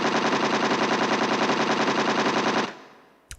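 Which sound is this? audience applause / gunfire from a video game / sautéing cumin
gunfire from a video game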